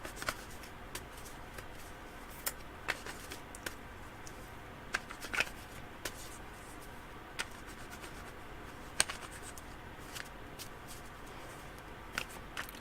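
A deck of cards is shuffled quietly at close range during a psychic reading, with soft riffling and scattered sharp clicks and taps at irregular intervals over a faint, hushed background.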